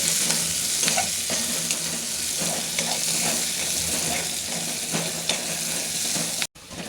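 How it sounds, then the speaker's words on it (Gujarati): Curd tempered over fried onions in a pan for a leftover rotla shaak, giving a steady close sizzle with occasional stirring scrapes and no voices; it cuts off abruptly near the end. "ત્યાં દહીં વઘારી લે."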